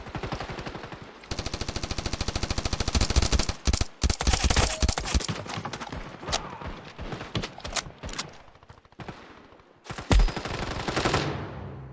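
Rapid automatic AK rifle fire in the mobile shooter Standoff 2 rattles out in long, loud, close bursts with brief pauses, followed by a few scattered single shots and another short volley.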